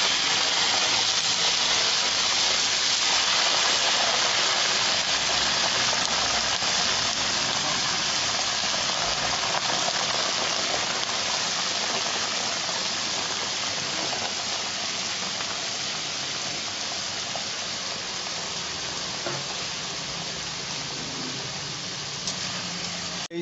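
Chicken frying in hot ghee and oil in a karahi for desi murgh karahi, a loud, steady, broad sizzle that holds evenly throughout without any talk.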